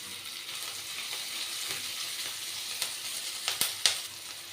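Two medium raw onions fry in oil in a pan, a soft continuous sizzle under a few light stirring knocks that sharpen toward the end; no voices.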